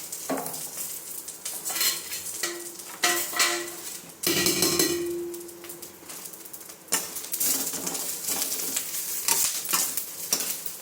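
Curry leaves sautéing in a pan, crackling sizzle punctuated by clattering stirring and spatula knocks against the pan, close and uneven in loudness.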